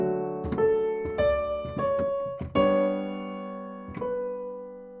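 Piano sketch chords in a progression that moves to the 4 chord, with a non-chord appoggiatura note resolving. Five or six sustained chords sound alone at a steady pace, each struck clearly and left to ring before the next.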